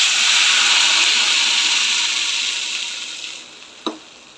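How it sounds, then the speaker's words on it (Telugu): Hot oil with seasoning spices is tipped into peanut chutney and stirred, giving a steady sizzling hiss that fades gradually, with a brief clink near the end. "ఇప్పుడు చట్నీ దాంట్లో వేసి మిక్స్ చేద్దాం."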